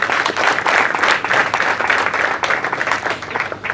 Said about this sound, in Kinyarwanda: Bakongera bakabamira amashyi.